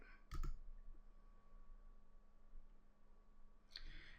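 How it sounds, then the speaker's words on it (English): Computer mouse left click: a sharp single click early on, then quiet room hum, with another faint click near the end. "And then I'm going to left click next step."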